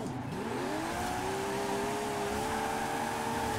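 A Singer 911 engine in Forza Horizon 4 revs steadily at high pitch in a sustained, loud drone with rising and falling pitch, as if cruising or drifting.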